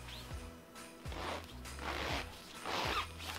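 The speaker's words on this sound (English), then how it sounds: "There is a zip." A zipper on a photography reflector case pulled open at close range in several quick, rasping strokes, each a short swish, with no speech over it.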